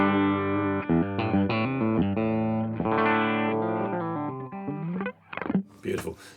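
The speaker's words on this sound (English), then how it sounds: "let's start with a cleanish tone through a stereotone creme brulee, which is a matchless kind of sort of vibey sort of kind of thing" A cleanish electric guitar tone runs through a Stereotone Creme Brulee pedal into a 1x12 cabinet with a greenback speaker, playing ringing chords and melodic lines with vibey shimmer before trailing into brief breaths.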